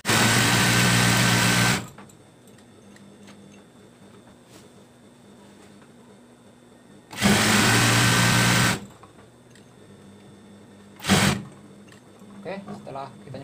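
A domestic sewing machine stitches a zigzag seam along the edge of a baby blanket in three loud, steady bursts: two long runs of about two seconds each, then a short one, with quiet pauses and faint handling noise between them.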